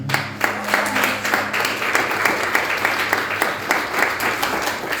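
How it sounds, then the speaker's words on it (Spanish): Church congregation clapping for the Lord during a worship service, a steady rhythmic crowd of many hands beating in time throughout, loud and continuous with a low hum beneath. "Vamos a dar palmas al Señor"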